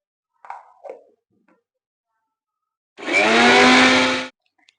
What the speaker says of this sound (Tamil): இப்போ சின்ன ஜார்ல நான் இந்த அரிசியை கொஞ்சம் கொஞ்சமா சேர்த்து புட்டுக்கு வேணுன்ற பதத்துல நான் அரைச்சி எடுத்துக்கிறேன்